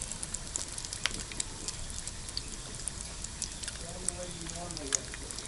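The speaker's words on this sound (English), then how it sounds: "I'm on my last 5 pieces of bacon, and I'm telling you that this is the quickest way to cook up a pound of bacon" Bacon strips sizzling on an induction cooktop, a steady crackling fry with scattered sharp pops, heard close up while a person talks over it.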